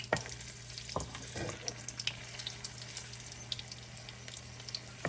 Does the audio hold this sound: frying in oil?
yes